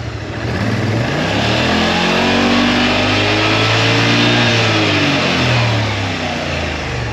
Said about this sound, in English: I hear a bassy note coming out of the exhaust, so very chesty siya, very beefy sounding